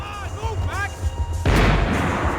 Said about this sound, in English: The bullets came from long range.